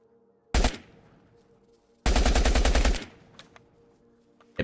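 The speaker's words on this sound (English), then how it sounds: "Hip firing is the way to go, I think." Hip-fired gunfire in the online survival shooter Will to Live Online: one loud single shot, then a sustained rapid burst of automatic fire lasting about a second, with faint clicks trailing after, close and clear with no talking.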